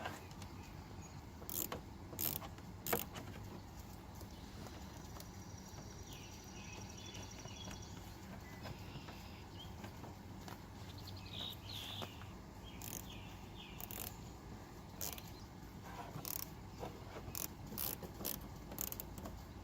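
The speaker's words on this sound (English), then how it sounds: "And you just need a quarter inch gear wrench." A quarter inch gear wrench ratchets while tightening a mud flap, with scattered sharp clicking bursts over a faint, quiet background.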